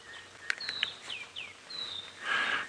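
Several birds call around a dawn safari drive: quick chirps and short descending whistles come in scattered bursts, fairly faint, over a soft outdoor hush, with no talking.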